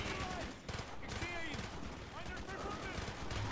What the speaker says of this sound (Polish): I są wybuchające beczułki.